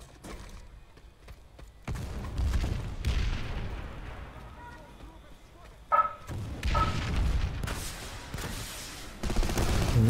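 Rapid gunfire bursts in the online shooter Planetside 2, with loud cracks and booms in clusters near and distant, broken by brief lulls and overlapped by a voice talking.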